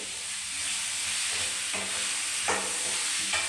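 Chicken fry being stirred in a frying pan, a steady hiss of sizzling oil with scraping stirs of a spatula recurring every second or so, close and fairly loud, no voices.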